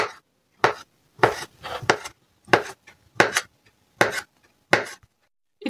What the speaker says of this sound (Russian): Нарезаем обычно, как на любой классический винегрет.